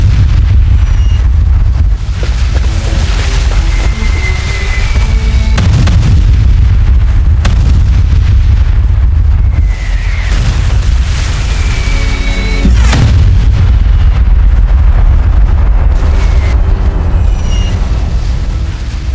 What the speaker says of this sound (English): being pummeled by the German artillery barrage unleashed upon them